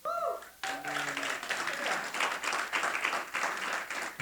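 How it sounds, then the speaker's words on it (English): An audience claps for a mother at a speaking event, the applause breaking out after a short spoken line and continuing as a dense, sustained clatter of many hands. "please give a round of applause for my mother."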